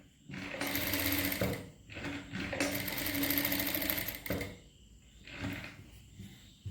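A sewing machine double-stitches the crotch seam of a pair of kids' pants. It runs in rapid, whirring bursts, close and clear, with brief pauses between runs.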